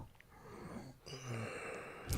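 A dog named Pixel lets out a loud raspy snore, a wheezing snort rising mid-stretch over quiet room tone, with a brief rustle at the end.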